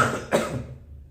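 A single sharp cough from a person ill with fever, close and loud, followed by a brief fading breath in a quiet room.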